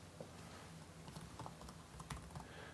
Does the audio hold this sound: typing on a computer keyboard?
yes